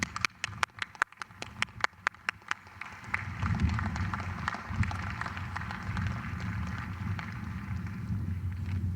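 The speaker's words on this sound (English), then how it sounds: "Let's give them a round of applause." At a 2021 University of Delaware doctoral hooding ceremony, a few sharp, separate claps ring out first, then swell into broad, steady audience applause that fills the hall and continues to the end.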